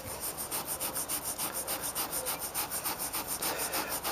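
Steady back-and-forth scrubbing of bird droppings off a concrete transmission tower base, a rhythmic rasping rub repeating quickly and evenly at close range with no pauses.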